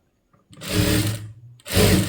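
Sewing machine stitching a lining piece for a blouse sleeve, running in two close, loud bursts with a brief pause between, motor whir and rapid needle chatter clearly up front.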